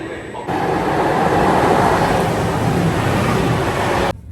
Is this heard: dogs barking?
no